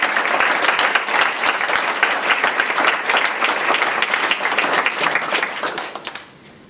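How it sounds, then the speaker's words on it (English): An audience at a Lemont High School board meeting gives a round of applause for the varsity dance squad, the state qualifiers. Dense, steady clapping continues for about six seconds and then tapers off near the end. "Let's have a round of applause."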